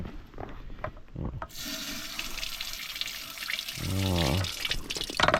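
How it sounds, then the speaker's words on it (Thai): Strong water gushing from an outdoor tap at a national park campsite tent ground in Mae Ngao, Mae Hong Son, a steady loud broadband rush that swells near the end, with splashing and gurgles. "มาดูนะมีน้ำแรง"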